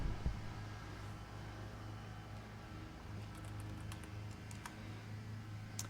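Computer keyboard typing at home, faint scattered key clicks over a low steady hum, with a few sharper taps clustering in the second half.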